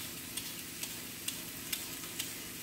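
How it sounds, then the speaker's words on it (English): Thin carrot shavings sizzle in a stir-fry pan, a steady hiss broken by evenly spaced light scraping clicks roughly every half second. "And I just peel little shavings directly into the pan"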